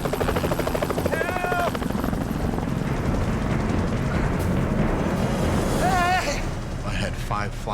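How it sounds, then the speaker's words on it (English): Helicopters fly their route over the Rocky Mountains, a loud, continuous rotor drone filling the whole stretch, with brief voices cutting in over it. "aimed at the helicopters as they were flying along their route"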